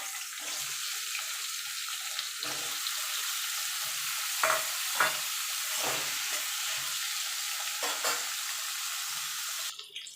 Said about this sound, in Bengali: আলুটা আমি লাল লাল করে ভেজে নেবো